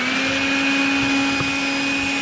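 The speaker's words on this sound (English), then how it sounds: "So I've got a little portable Milwaukee vacuum here." A small portable Milwaukee vacuum sucks up sawdust with a steady, loud, high-pitched whine that holds unchanged throughout, with no voices.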